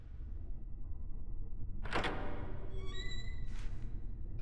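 A door opens in the survival horror game Fatal Frame 4 (Project Zero 4): a sudden thunk and slide about midway, followed by a few thin ringing tones over a steady low ambience.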